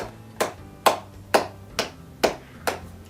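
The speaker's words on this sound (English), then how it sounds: "end here with the clapping as fast as I can" Hand clapping done as fast as possible: six sharp, evenly spaced claps about half a second apart, close and clear against a quiet room with no talking.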